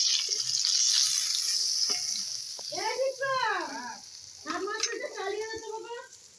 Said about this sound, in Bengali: আমার মাছের মাথা ভাজা হয়ে গেছে